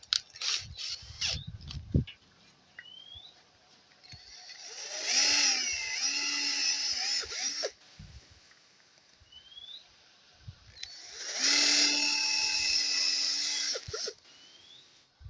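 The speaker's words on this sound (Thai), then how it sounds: "ก็มาทำการเจาะ รู นะครับผม" Two bursts of high-pitched drilling into a plastic bottle, each lasting a few seconds, whine into the material, separated by quieter pauses with small clicks and handling noises.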